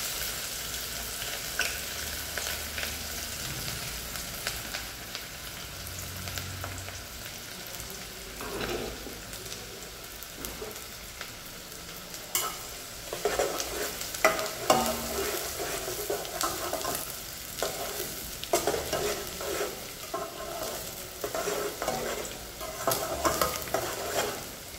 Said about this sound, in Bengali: তেলটা গরম হয়ে আসছে, এবার আমি যে চপ করে রেখেছিলাম ফাইন চপ অনিয়ন এবং মির্চি, গ্রিন চিলি চপ, সেটা ঢেলে দেওয়ার পর